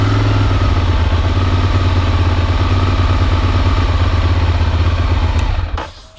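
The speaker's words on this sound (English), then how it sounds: "let's start the Ducati" A Ducati motorcycle engine, just started, runs with a loud close throbbing idle that holds steady and then cuts off at the end.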